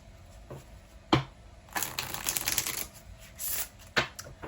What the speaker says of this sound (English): Giving the deck a few shuffles.